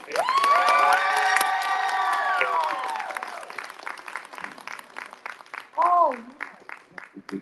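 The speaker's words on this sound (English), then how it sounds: "Give a hand clap for me." Convention panel audience at a pop culture expo breaks into loud applause and cheering with whoops and high shouts, then the clapping thins into scattered claps as a voice speaks briefly.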